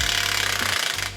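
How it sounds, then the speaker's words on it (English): A big Milwaukee impact wrench hammers loose a staked 36mm axle nut on a BMW E46 AWD, a loud rapid rattling burst close by that cuts off at the end. "Tool for that, we're gonna be using big Milwaukee."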